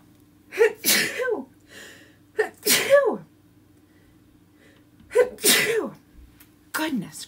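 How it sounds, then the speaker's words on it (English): Several sharp sneezes burst out in a quiet room during a chalk stencil craft session, four loud explosive bursts spaced a couple of seconds apart with faint breathy pauses between them. "Gonna sneeze."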